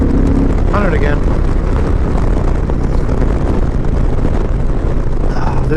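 A 2021 Indian Challenger Limited motorcycle engine held at full throttle on the road, a loud, steady, close drone heavily buffeted by rushing wind for the whole stretch, with a brief faint voice-like sound early on.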